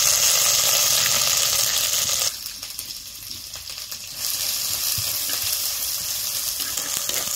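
Dry red chilies and cumin seeds crackling in hot oil, a loud bright sizzle that drops sharply for a couple of seconds, then surges back and keeps hissing steadily with small pops.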